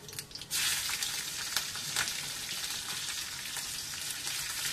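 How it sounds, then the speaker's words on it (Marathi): Green chilies added to blooming cumin seeds in hot oil for a tempering, a loud continuous sizzle and crackle that swells suddenly after a quieter start and holds steady up close, with no talking. "आपण त्याच्यामध्ये हिरव्या मिरच्या घालणार आहोत"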